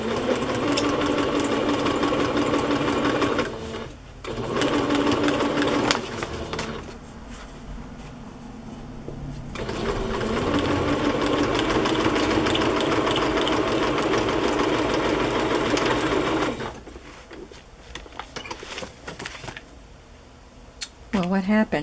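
Sewing machine running with no thread in the needle while decorating Halloween journal pages with cheesecloth, a loud continuous motor buzz in two long bursts separated by short pauses, then fading to quieter handling noise near the end.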